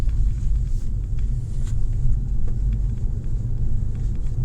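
A car on a rural road in France rushes by with a steady, loud low rumble that holds through the whole stretch, no voices over it.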